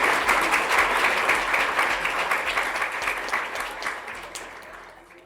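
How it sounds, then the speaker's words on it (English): Audience applause at a staff awards show, loud, dense clapping that gradually fades toward the end, with no speech. "I think they deserve another round of applause."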